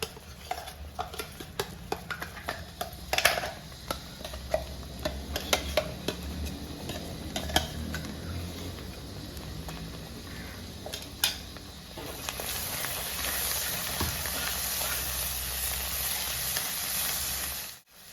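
Ground onion paste with spice powder frying in hot oil for Kerala-style onion pickle, a continuous sizzle broken by ticking spoon strokes against the pan, growing to a louder hiss near the end.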